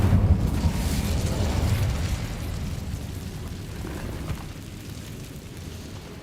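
Fiery spell blast cast in Hogwarts Legacy: a loud, rumbling explosive whoosh that opens with a heavy boom and rolls on as a dense, low roar, slowly easing off over several seconds with no talking.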